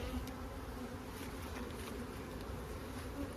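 Honey bees hum steadily in a winter hive opened on a mild day, a dense, continuous buzzing swarm sound close by with no talk.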